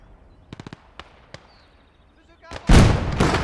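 45 mm gun firing high-explosive rounds in the WWII strategy game Call to Arms: Gates of Hell, with a few sharp distant cracks early on, then a loud close booming blast that rumbles and fades.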